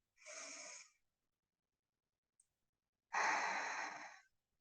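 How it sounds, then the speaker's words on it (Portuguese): Two deep breaths exhaled slowly through the mouth during a guided mindfulness relaxation, each a soft airy whoosh of about a second, the second longer and louder, separated by a quiet pause with no talking. "fazendo uma respiração profunda, soltando o ar pela boca"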